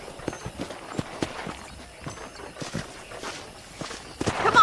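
Horse hooves clip-clopping at a walk in the Red Dead Redemption video game, a steady run of close, crisp hoof strikes with a louder burst at the end.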